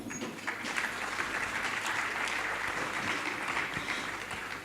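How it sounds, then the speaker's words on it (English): Steady audience applause at a business forum, moderately distant and continuous throughout, with no speech over it. "Ladies and gentlemen, a round of applause for Mrs."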